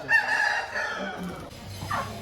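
An Aseel rooster on a farm near Nellore crows once, close and clear, with a drawn-out call over faint background noise.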